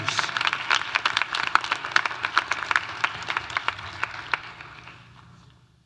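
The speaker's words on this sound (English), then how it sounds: "Please join me in giving a round of applause to the Asian Student Celebration Class of 2026" A small audience applauds graduating master's students of the Class of 2026 at an Asian Student Celebration, with distinct, fairly sparse claps that thin out and fade away toward the end.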